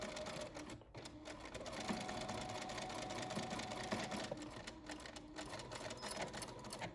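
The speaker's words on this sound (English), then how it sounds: "take it to the sewing machine and sew it along the thread tracing line" A sewing machine stitches a shirt cuff for a blouse, its needle running in a steady, fast mechanical chatter with brief pauses, close and moderately quiet throughout.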